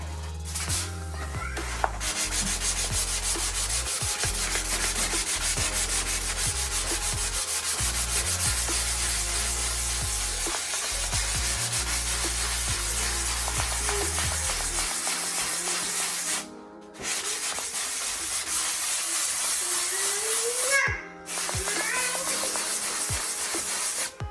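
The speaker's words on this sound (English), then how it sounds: "So now for the final sand, P400." Steady, continuous rubbing and hissing of P400 sandpaper doing a final smooth sanding of a patched drywall hole, close and loud, with two brief pauses near the end.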